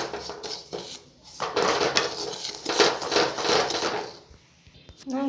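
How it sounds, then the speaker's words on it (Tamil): Roasted semolina scraped and shaken from a pan into a bowl, giving a run of close, gritty scraping and pouring rustles with light clinks of metal against the bowl. "இப்போ நம்ம திருப்பி அந்த பவுல்லையே நம்ம இதை மாற்றலாம்."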